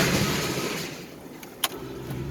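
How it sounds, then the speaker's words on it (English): Steady roar of tire and wind noise inside a one-ton pickup truck towing a loaded trailer, a broad even rush with no voices and a single sharp click near the end. "It's just tire noise and wind noise"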